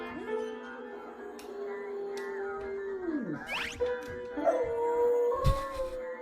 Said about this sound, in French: Le chien tape son meilleur concerto